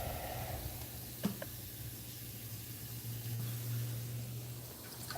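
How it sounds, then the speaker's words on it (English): Aquarium pump in a lagoon tank running at a higher setting, giving a steady low hum under a continuous watery hiss and rush of flow, with a couple of faint knocks. "Let's see what happens when I turn the pump on up higher"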